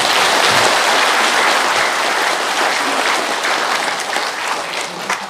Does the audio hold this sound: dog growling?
no